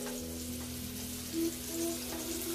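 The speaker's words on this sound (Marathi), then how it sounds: "बघा मस्त चुरचुर चुरचुर चुरचुर आवाज येतो" Pomfret fish fried Malvani style in a pan sizzles steadily with a fine crackle, close and moderately loud, alongside a faint low hum and a few brief tonal squeaks.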